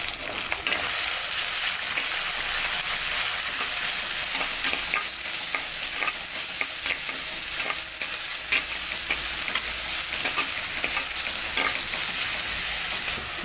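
Onions and curry leaves fry in a pan for prawn gravy, giving a steady, close sizzle with scattered stirring scrapes and clicks throughout.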